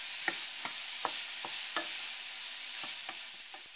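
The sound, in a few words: stirring apple, raisin and cranberry stuffing in a pan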